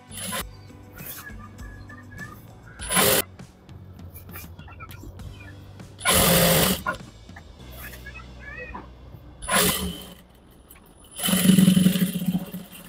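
A sewing machine stitches a churidar, with short bursts of close, rapid mechanical whirring separated by quiet pauses for handling the fabric, about four runs in total.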